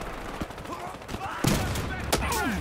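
Rapid bursts of FMG9 gunfire at range in a first-person shooter game, loud clattering shots with a brief pause between volleys.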